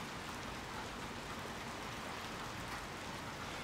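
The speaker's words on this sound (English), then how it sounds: "back out into the pouring rain once more" Steady, dense pouring rain fills a scene in the video game Little Nightmares 2, an even, close hiss of heavy downpour running unbroken throughout with no voices.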